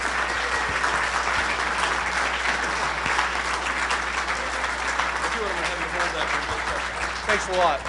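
A conference crowd applauds steadily throughout, dense clapping holding at a fairly even level with some brighter bursts toward the end.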